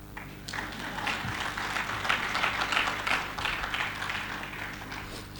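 An audience at a UN Human Rights Day speech breaks into moderate applause, a steady patter of many hands clapping at middle distance for several seconds, without speech on top.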